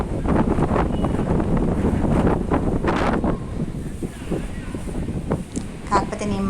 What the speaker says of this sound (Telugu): గాలి అయితే ఫుల్గా వస్తుంది